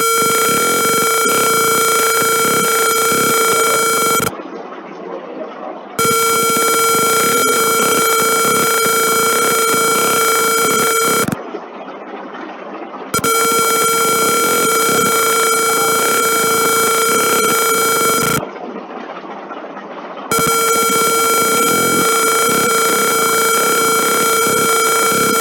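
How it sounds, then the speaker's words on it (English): Loud, steady electronic buzzer tone from an automatic juice dispenser signalling a completed process, sounding in long stretches, broken by three brief pauses, with a faint hum underneath. "here is the buzzer beep that the process is completed"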